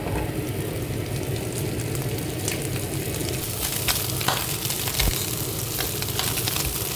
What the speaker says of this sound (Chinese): 把鸭架都倒进去了